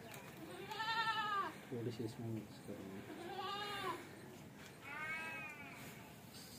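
Goats bleat at feeding time while chaff, straw and bran are mixed for them, three separate wavering bleats a couple of seconds apart, fairly close, with someone talking quietly between them.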